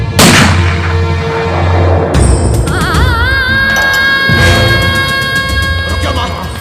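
Firecrackers burst in a scene from a Hindi comedy film, loud crackling blasts followed by whistling, warbling tones and further sharp pops, all close and continuous.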